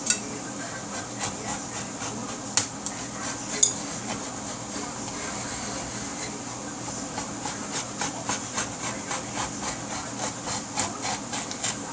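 A blade draws repeatedly along a metal yardstick while cutting electronics cover fringe, a series of soft scraping strokes at a steady rhythm over a quiet background.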